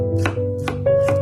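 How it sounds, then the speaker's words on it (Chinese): A kitchen knife slices garlic cloves into thin slices: three crisp, evenly spaced cuts against a board over a steady tonal background, close and fairly loud. "给它切成蒜片。"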